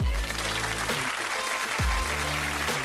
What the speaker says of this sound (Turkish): Alkışlarla Danla Bilic.